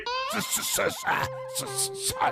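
A human voice mimics a dog's barks and yips, a few short tonal calls in a row, close and clear.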